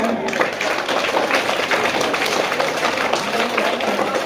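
Audience applause following a Rajasthani folk dance by young girls at an Indian national-day stage program, dense, loud continuous clapping from a large crowd lasting the whole few seconds.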